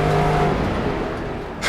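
A modern analog American car in the Assetto Corsa racing sim drones under load, the engine note holding steady then fading slightly before a brief burst of noise at the end, loud and continuous with no talking.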